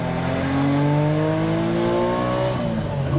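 An F1-engined Porsche 930 and a Ruf CTR on the road, the engine revving hard and climbing steadily in pitch, then shifting, loud and close from inside, no talk.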